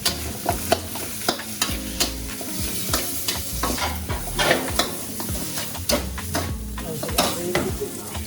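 Chicken fries in a pan of idiyappam kottu, giving a steady sizzle beneath a quick, rhythmic clatter of metal utensils stirring and scraping, close and busy throughout.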